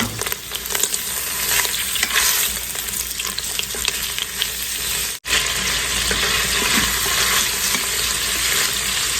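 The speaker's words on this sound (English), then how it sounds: "get our sausage in here. We're going to saute it till it's nice and brown." Sausage sautés in an Instant Pot for Creole red beans and rice, a loud continuous crackling sizzle with scraping stirs and a brief break midway, with no talking.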